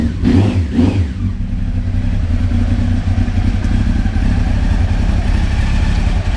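A motorcycle engine roars close by, revving twice at the start and then settling into a steady, rumbling idle with a rattly clatter.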